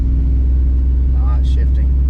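An LS-swapped OBS Ford truck with a carbureted engine accelerates, its steady low rumble filling the whole stretch up close, with brief higher mechanical whines partway through.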